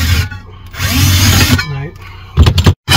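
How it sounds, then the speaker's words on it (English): A power drill whines and grinds against stainless steel in short, loud bursts, the bit slipping as it stops and restarts, with a voice talking briefly between. "every time we push it down to try and drill individual little holes, just slips"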